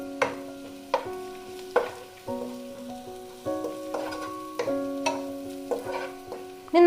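Ingredients for Kerala chicken stew sautéed and stirred in a pan, giving a low steady sizzle broken by repeated sharp scraping and clinking strokes, close and moderately loud with no talking.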